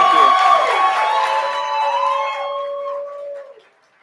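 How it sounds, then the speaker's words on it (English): Audience at a grant pitch competition cheering, whooping and clapping as contestants come out on stage, a loud, dense burst of crowd noise that fades out near the end. "give them a big round of applause as they come out"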